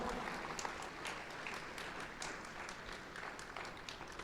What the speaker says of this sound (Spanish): ¿Puede darle un aplauso al Señor fuerte?